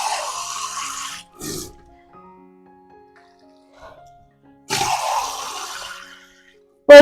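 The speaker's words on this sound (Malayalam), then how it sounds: "ഒരു കപ്പ് ഒഴിച്ചു, രണ്ടാമത്തെ കപ്പ് ഒഴിച്ചിട്ടോ" Cups of water are poured into a pot of beef curry, giving two bursts of splashing, gushing liquid separated by a quiet stretch with faint clinks and kitchen noise.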